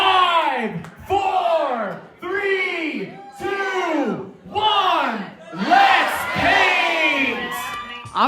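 A large crowd at an Art Battle live painting competition in New York shouts a countdown in rhythmic unison, five loud chanted bursts with brief gaps, ending in a louder, longer collective cheer.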